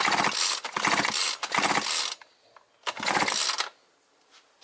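Repeated bursts of sharp, rapid compression pops from a brushcutter engine being cranked, loud and close, three pulls separated by short quiet gaps.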